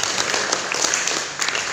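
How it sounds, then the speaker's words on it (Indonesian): An audience at a Hindu religious educators' orientation session applauds, a dense, steady patter of clapping close by that fills the whole moment. "Untuk itu monggo aplaus dulu kepada beliau ini."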